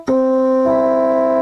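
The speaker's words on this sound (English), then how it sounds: "That's the major third on a piano." A major third played on a piano: a short, clear struck chord that rings sustained and close for about a second and a half, alone without any voices.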